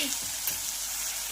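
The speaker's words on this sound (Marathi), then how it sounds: "मी एक टोमॅटो घेतलेला आहे आणि छान हे सुद्धा यामध्ये परतून घ्यायचं आहे" A medium tomato sautéing in ground masala paste in a pan, giving a dense, even hiss of frying with faint stirring, close and steady with no voices.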